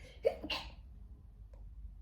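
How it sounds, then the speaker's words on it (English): A single quiet, short sneeze, a sharp burst of breath in an otherwise hushed room, followed by a faint sniff. "I'm about to sneeze."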